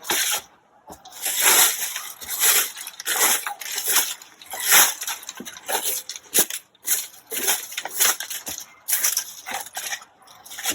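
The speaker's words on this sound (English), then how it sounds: "Do you like the sound of leaves falling and being swept and crunching on the leaves?" Dry autumn leaves swept and crunched underfoot outdoors, a close, loud series of rustling, crackling bursts in an irregular rhythm with short pauses between strokes.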